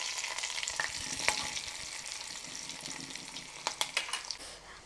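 Curry leaves, chopped green chilli and garlic sputter in hot oil for a curd tempering, a steady close sizzle punctuated by sharp crackles and pops.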